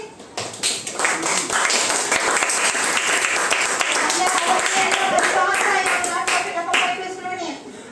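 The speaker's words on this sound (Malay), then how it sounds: "tepuk tangan pada diri sendiri" Secondary-school students in a Form 3 history class clap for themselves, a dense burst of many hands filling the room for several seconds before tapering off, with a few young voices mixed in.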